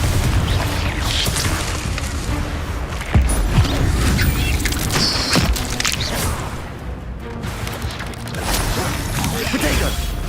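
A Confringo blasting spell goes off in Hogwarts Legacy amid a busy spell-casting fight, giving a heavy boom near the middle among other impacts and game effects, with a voice talking over the action.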